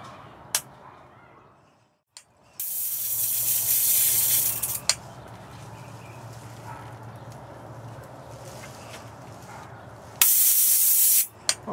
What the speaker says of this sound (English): I think you can hear the gap firing, but as you can see, there's no spark